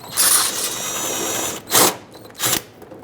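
A power driver whirs steadily as it backs out a 7mm-headed screw holding the bumper cover to the fender of a 2010-2017 Chevrolet Equinox, followed by two short, close bursts.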